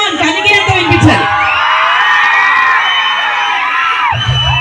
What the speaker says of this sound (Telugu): ఫ్రంట్ లో ఉన్న వాళ్ళు మంచి మంచి ఎనర్జీలో అరుస్తున్నారు